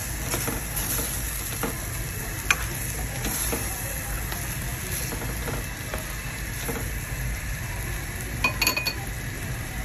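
Sambal tumis udang with petai heating in a pan gives a steady low sizzle, with a few faint clinks of a utensil against the pan, close and even throughout.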